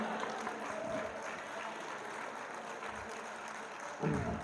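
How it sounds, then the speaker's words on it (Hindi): An audience at a mushaira poetry gathering applauding the poet Ikram, a sustained wash of clapping from a hall crowd that holds steady and then ends with a brief louder burst. "इकराम साहब के लिए तालियां बजा दें एक बार"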